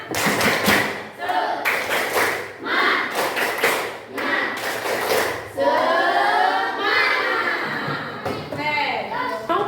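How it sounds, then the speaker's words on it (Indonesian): A school group in Indonesia doing a rhythmic tepuk semangat cheer, bursts of patterned clapping with thumps and chanted voices, rising into shouted vocals near the end. "sekarang tepuk semangat dulu ya"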